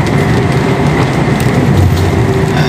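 Heavy rain pouring down steadily near Miguelópolis in São Paulo state, a loud, dense and continuous roar that keeps the same level throughout with no voices over it.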